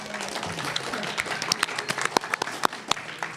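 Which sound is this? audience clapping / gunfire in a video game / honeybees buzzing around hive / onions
audience clapping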